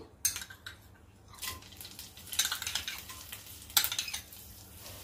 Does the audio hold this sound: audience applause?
no